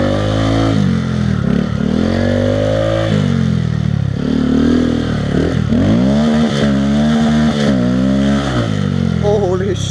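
A Grom motorcycle drifting on snow, its engine revving hard and close, pitch surging and dropping repeatedly with a clattery edge, and voices faintly underneath.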